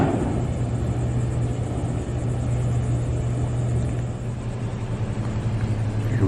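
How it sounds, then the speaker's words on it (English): A car rolls off a ferry boat during unloading at the Fort Fisher to Southport crossing, a steady low engine rumble and drone heard close and continuous, with no voices. "here's the first vehicle unloading"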